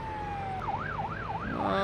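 A police car siren in a Roblox driving game on Polish roads, one wailing tone sliding up and down in a fast, regular rise and fall, loud and close, preceded by a steady held tone.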